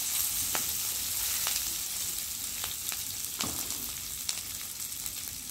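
Sliced onion, garlic, halved green chillies and curry leaves sauté in oil in a pan, giving a continuous crackling sizzle broken by a few sharp stirring clicks and taps.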